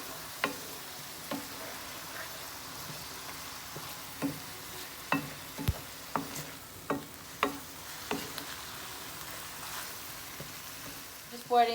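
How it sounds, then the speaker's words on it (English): Mushrooms fry in a pan with a steady soft sizzle, broken by a dozen or so sharp clicks and taps of a utensil stirring, close and moderately quiet. "I'd rather fry them off a little bit"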